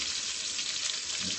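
Chicken with shallots frying in a pot gives a steady, dense sizzle that runs throughout without pause, close and fairly loud, with no talking over it.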